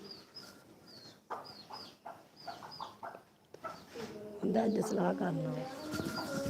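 Several hens cluck and murmur at close range, with short repeated calls building into a louder burst of clucking toward the end.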